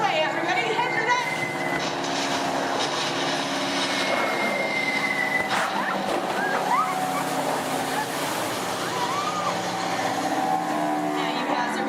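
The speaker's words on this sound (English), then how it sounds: "You hear more enemy planes approaching." Effect for enemy bomber planes approaching during a Disney theme park ride and show, a continuous loud engine-like roar with rushing, surf-like noise, steady throughout with a few sharper accents.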